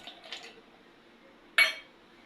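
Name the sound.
ingredients put into a mixer jar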